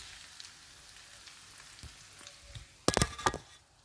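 An egg frying in a pan for egg garlic chili, a soft steady sizzle that ends in a brief louder burst of crackling and clattering near the end.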